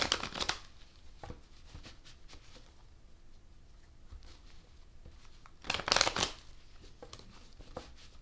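A Rider-Waite tarot deck is shuffled, making soft riffling bursts at the start and again near the end with quieter card handling between them.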